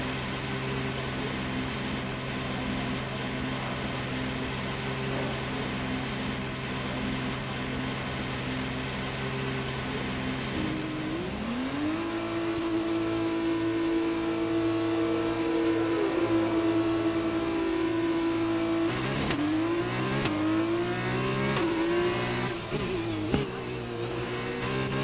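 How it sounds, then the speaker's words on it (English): F2 race car idling in the pit garage at Jeddah, a steady mechanical hum that swells into a rising engine note as it revs and pulls away, with sharp clanks and shifting tones toward the end. "All personnel be aware, car leaving."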